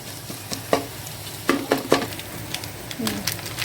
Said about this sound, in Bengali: এই যে রাইস কুকারে ডিম ভাজতেছি, আলু চপে দিব, পেঁয়াজ মরিচ আর ডিম।